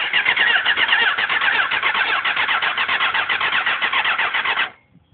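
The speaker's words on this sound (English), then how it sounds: "The bike turns over, but it's not getting any spark at the spark plugs." A hot-wired street bike's starter cranks the engine over steadily without it catching, a loud rapid rhythmic churning that runs for about four and a half seconds and then cuts off abruptly, with no speech.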